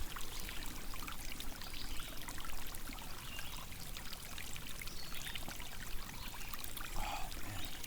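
Spring water pours in a steady stream into a gallon jug at an outdoor spring on a camping and hiking trip, a continuous close splashing trickle running unbroken throughout with no talking.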